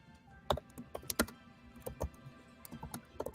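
Keys on a computer keyboard are typed in quick, irregular bursts, with sharp clicks close by and short pauses between runs. The sound is fairly quiet and there is no talking.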